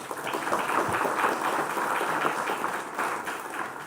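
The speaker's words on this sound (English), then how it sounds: "Give a big round of applause." An audience at a cadet passing out parade applauds, a steady wash of many hands clapping at moderate volume, sustained evenly for a few seconds in a large gathering.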